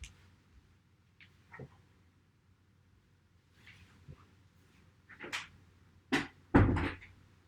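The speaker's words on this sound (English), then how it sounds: "As I shut the door" A door shut indoors at home: a few quiet knocks and handling bumps lead to two sharp, close wooden thuds near the end, with near-silence between them.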